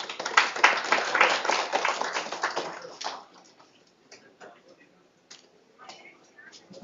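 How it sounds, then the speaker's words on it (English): Audience at a mental wellness club inauguration applauding to welcome the speaker, a brief burst of scattered clapping that dies away after about three seconds, followed by quiet and a few stray claps. "I request you all to please put a round of applause to welcome our speaker for today"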